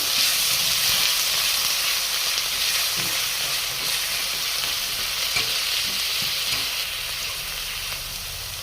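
Spices and onion paste fry in a hot pan for a Bengali rohu fish curry with potato and cauliflower, giving a steady, loud sizzle and hiss close by with faint stirring scrapes.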